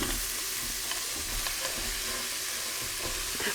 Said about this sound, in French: une fois que mon ail et mes oignons sont dorés, ben, j'ajoute saucisson et lardons